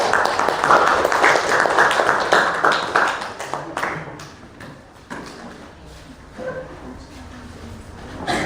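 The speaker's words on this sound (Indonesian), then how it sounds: "Beri aplaus." Audience applause after a group presentation, a dense burst of clapping that is loud at first and then thins out into scattered claps before fading.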